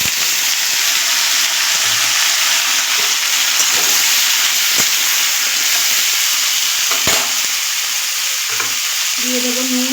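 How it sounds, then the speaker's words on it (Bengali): Vegetables hit hot oil in a wok already holding tempered whole spices and fried dried red chillies, giving a loud, steady sizzle with scraping stirs throughout and no voices. "এবার আমি সবজিগুলো এর মধ্যে দিয়ে দেবো।"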